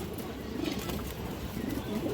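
Soft, low cooing from a Muslodom pigeon rises and falls a couple of times over a steady background murmur.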